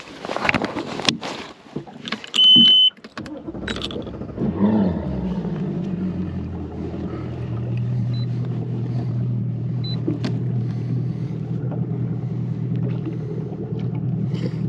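A Mercury 250 Pro XS outboard engine being broken in on a boat runs with a steady low drone after some wind buffeting and splashing at the start, then holds an even, moderately loud hum.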